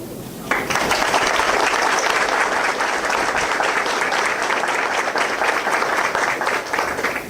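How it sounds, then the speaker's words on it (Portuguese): An audience at a corporate Pride talk breaks into applause after a brief pause, with a full, steady roar of clapping that carries on for several seconds. "Acho que essas palmas foram também de agradecimento"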